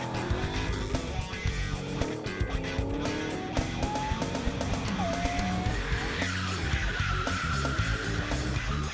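Drift cars at the French Drift Championship in Albi launch from the start line, their engines roaring loudly and continuously while tires squeal and screech in rising, sliding tones.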